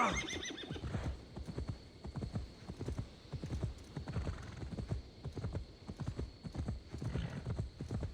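A horse gallops steadily in Assassin's Creed Valhalla, with rapid rhythmic hoofbeats close by and a brief whinny at the start. A voice speaks faintly underneath.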